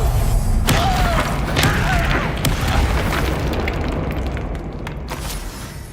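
A Confringo fire spell in Hogwarts Legacy bursts with a loud booming blast, followed by crackling debris and sharp pops that rumble and slowly fade.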